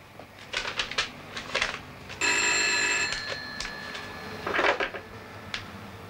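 A telephone ring, a sustained electronic bell tone lasting about a second, sounds once amid handling noises and clicks as a man calls his sister.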